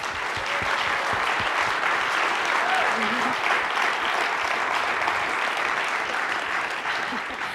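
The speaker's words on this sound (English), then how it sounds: "So we'll give them a round of applause" An opera house audience applauds a featured food access partnership, a broad, sustained wash of clapping that holds steady and fairly loud throughout, with faint voices beneath it.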